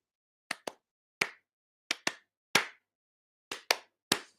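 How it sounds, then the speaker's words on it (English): Sharp hand claps ring out close and clear, eight in all, mostly in quick uneven pairs separated by short silences, with no talking. "Give yourselves a clap."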